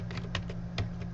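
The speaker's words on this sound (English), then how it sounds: "I'm going to type in system.out.println and then double quote" Quick, light keystrokes tap on a computer keyboard in a short irregular burst over a low steady hum.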